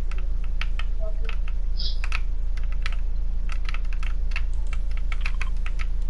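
Rapid keystrokes clatter on a computer keyboard during a Fortnite session, irregular clicks at close range over a steady low electrical hum, with no speech.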